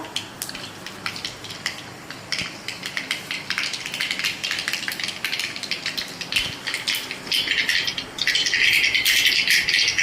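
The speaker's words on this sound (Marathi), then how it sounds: "मोरी छान मस्त तडतडली आहे" Mustard seeds spluttering and popping in hot oil for tempering in a kitchen, a dense crackling rattle that builds louder toward the end, with no talk over it.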